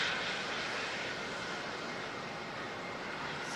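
A Qantas Boeing 787 arriving from Sydney at a foggy airport, a steady broadband jet roar that holds at a constant level, with no voices over it.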